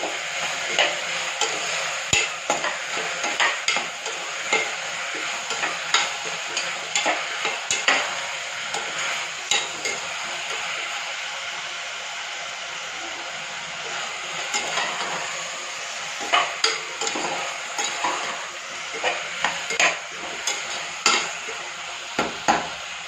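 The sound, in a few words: sautéing tomatoes in a pan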